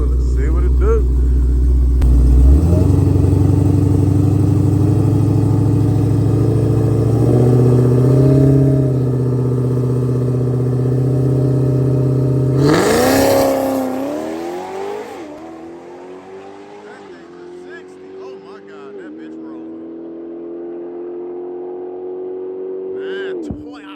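A Hellcat, Trackhawk or Mustang race car accelerates on a track with a loud rising engine roar that sweeps up through the gears and then fades into the distance as someone talks over it.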